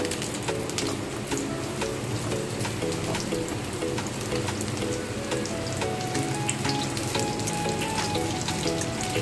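Sweet potato and other vegetables frying in oil tempered with curry leaves for a Bengali fish dish, a dense, continuous hiss and crackle like heavy rain, loud and close without pause.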